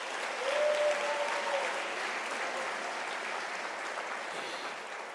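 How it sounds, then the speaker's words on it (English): A graduation ceremony audience at the University of South Africa gives sustained, moderately distant applause for the academic staff on stage, swelling early then tapering slightly. "Can we give them a round of applause"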